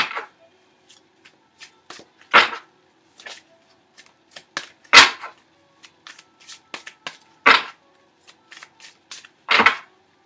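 Tarot cards being shuffled and drawn by hand in a quiet room, with several crisp riffling bursts and soft card slaps spaced across the stretch, close and clear with no talking.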